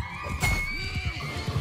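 A horse in the medieval combat game Mount and Blade 2 Bannerlord lets out a loud, close whinny as it is killed, with battle noise underneath and no speech.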